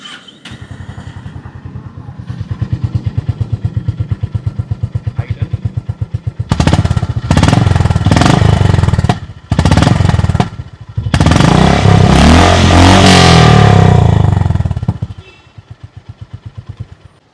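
A Honda CB350RS motorcycle idles with a steady thump, then its exhaust roars through several sharp revs and a long rising blip before settling back to idle.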